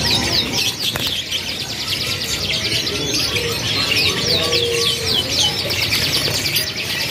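Crested canaries sing continuously in a bird shop, a dense chorus of bright trilling chirps and tweets that carries on steadily throughout.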